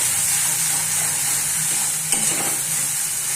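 Flat beans (shim) frying in a pan, a dense, steady sizzle close up with a brief stirring scrape near the end and no voices.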